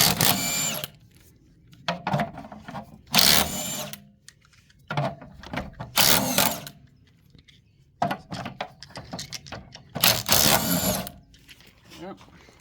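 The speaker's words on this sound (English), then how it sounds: "I'm going to remove the 21mm wheel nuts" Power tool, likely an impact gun, removing 21mm wheel nuts from a Toyota Corolla under repair for rust, in several loud bursts of a few seconds each separated by pauses, with speech heard between them.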